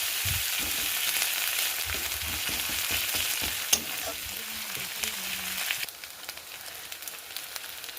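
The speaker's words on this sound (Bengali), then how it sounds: "এখন আমি এর থেকে দিয়ে দেবো বেটে রাখা আদাটা এবং আদাটাও আমি সুন্দরভাবে মশলার সাথে" Ginger paste sautés with spices in a hot pan for tel koi fish curry, a continuous sizzle and frying crackle with scattered stirring knocks, close by, fading slightly toward the end.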